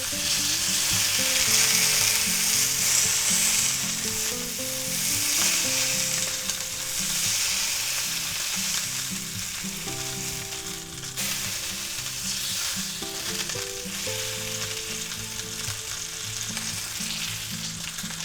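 Sous vide pork chops sear in a hot pan after being flipped, giving a loud, steady, close sizzle that holds evenly throughout with no talking over it.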